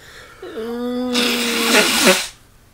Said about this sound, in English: don't like the sound of somebody blowing his nose